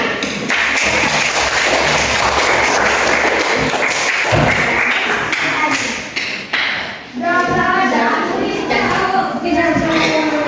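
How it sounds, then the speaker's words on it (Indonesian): Schoolchildren in an Indonesian classroom clap together in a loud, busy burst of hand claps and taps that runs for several seconds, then fades as young voices chatter and call out. "pintar, tepuk tangan."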